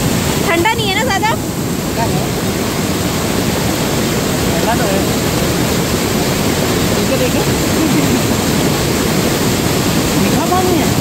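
Water flows and rushes steadily at Plitvice Lakes in Croatia, a loud, continuous broadband roar with wind buffeting the microphone, and voices talking briefly over it.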